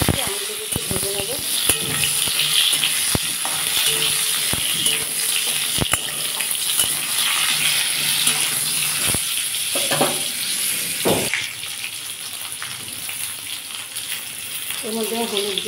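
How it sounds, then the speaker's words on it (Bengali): Mango pieces hit hot oil already crackling with mustard seeds and dried red chili, a steady loud sizzle with stirring clatter, easing slightly near the end. "দেখুন আমগুলো দিয়ে দিচ্ছি, আমগুলোকে একটু ভেজে নেবো"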